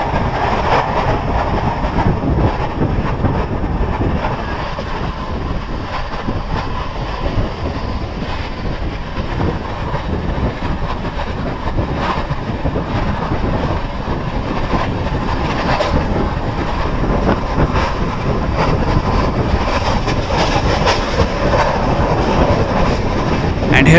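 Azimabad Express train running through a junction at 130 km/h, with a loud continuous rumble and rapid clickety-clack of wheels over rail joints from inside the carriage.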